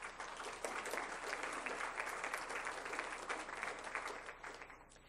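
A room at a school board meeting breaks into steady applause for a teacher honored for outstanding middle school social studies teaching, a dense even clapping that holds for about five seconds before easing slightly.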